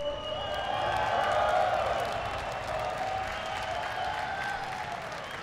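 Dense crowd applause with cheering and whoops at the Evo 2023 King of Fighters XV top six, loud and sustained from start to finish, slightly fading toward the end.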